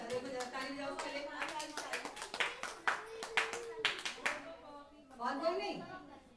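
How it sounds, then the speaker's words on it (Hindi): A group of children clapping for a classmate in a classroom, a run of quick, close handclaps with uneven rhythm that ends abruptly, followed by a voice and an adult speaking. "देखो जरा ताली बजाओ उसके लिए।"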